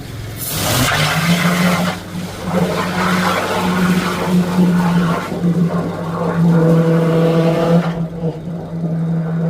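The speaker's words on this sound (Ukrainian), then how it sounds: "Так шумить моя фризочка" A motorized machine runs with a steady loud whirring drone and a harsh startup burst, continuing without speech before cutting off near the end.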